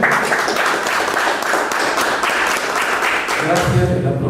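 An audience at an indoor talk applauds steadily with dense, continuous clapping. The clapping tapers off near the end as a voice begins speaking.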